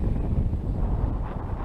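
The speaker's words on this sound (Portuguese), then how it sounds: "vamos vir pra cá que o vento, tá um ventinho ali" Strong wind buffets the microphone at a model airplane flying field, a loud continuous low rumble with no voices.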